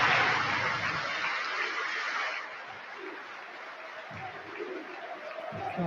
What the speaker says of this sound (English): The biggest cheer got all season.